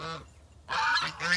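Three African geese honking close by, a loud harsh burst of calls following a brief quieter stretch, with shorter honks trailing after.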